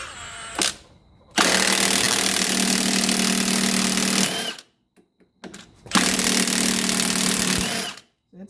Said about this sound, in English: Now we can usually tap that out or run it out with our impact. Get our nut out of here.